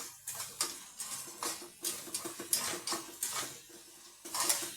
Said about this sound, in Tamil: இந்த வெங்காயத்தை நல்லா வதக்கி கொடுக்கணும் வதங்கணும் இது வதங்கும் போதே நம்ம இஞ்சி பூண்டு பேஸ்ட்டையும் சேர்த்துருங்க நல்லா வதங்கட்டும்